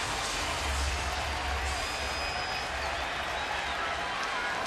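A baseball stadium crowd on its feet at a Yankees at Astros game, cheering and applauding Andy Pettitte in a dense, steady roar with scattered clapping throughout.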